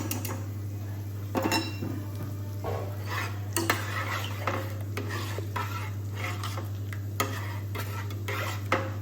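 Tempering goes into a pot of dal and is stirred, with repeated metal spoon scrapes and clinks against the pot over a faint sizzle and a steady low hum.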